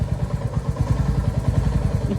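A Honda Activa scooter engine runs close by with a low, rapid, even putter, its steady pulses repeating without pause.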